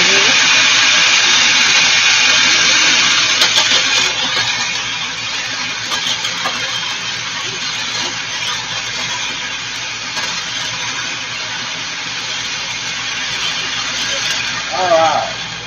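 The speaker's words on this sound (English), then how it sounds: "Start to spin it all low. And I'm going to drop these pieces of onion in here." A food processor on a low setting chops onion pieces for homemade meatballs, giving a loud, steady whirring drone that eases slightly after the first few seconds and runs on without a break.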